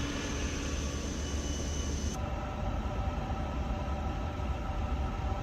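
Brake fans of an A350 airliner whir inside a flight simulator, a steady mechanical hum with a faint high tone that cuts out partway, leaving a broad, even drone with no talk.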